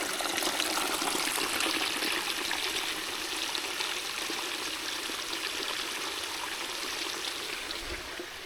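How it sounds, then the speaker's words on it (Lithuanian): A small waterfall and stream on Madeira run down with a steady broadband rush and trickle of flowing water, constant and fairly close, with no voices. "Parbėga nuo to kriokliuko."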